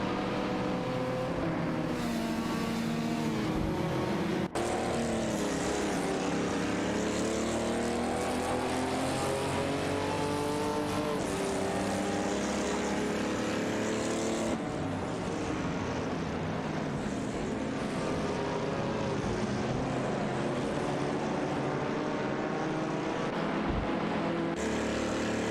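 Race cars in a racing video game, including a Mazda RX-3 and a Ferrari 212 Export, roar continuously with engines rising and falling through gear shifts, loud and sustained throughout with no talking.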